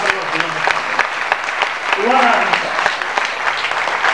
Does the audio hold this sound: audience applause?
yes